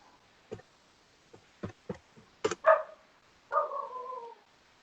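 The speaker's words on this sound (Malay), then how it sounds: "bunyi anjing ah" A dog gives a few short, scattered yips and barks nearby, followed by a longer whining bark, with quiet gaps between the sounds.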